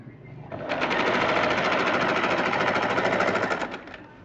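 Sewing machine stitching piping into a kurti, a rapid even mechanical chatter running for about three seconds close up, starting and stopping cleanly.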